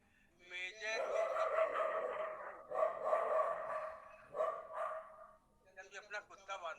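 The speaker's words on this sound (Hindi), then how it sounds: "अपना कुत्ता बांधो।" A dog barks in several bursts of loud, close barking and yipping, with brief pauses between, in a domestic setting.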